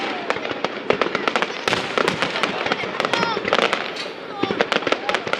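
Fireworks at the Hung Kings Temple festival in Viet Tri go off as rapid, irregular bursts of popping and crackling, with people talking over the barrage.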